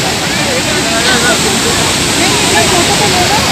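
Dhuandhar waterfall on the Narmada at Bhedaghat, Jabalpur, roars as a loud, constant wash of falling water, with faint voices of a crowd beneath it.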